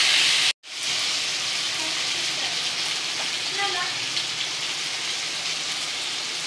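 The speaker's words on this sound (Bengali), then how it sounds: "মাংসটা এবার একটু নুন দিয়ে আর হলুদ দিয়ে ভালো করে একটু ভেজে নিচ্ছি" Chicken pieces frying in hot oil with salt and turmeric give off a continuous crackling sizzle, close and fairly even, with a few brief pops after a short silent gap at the start.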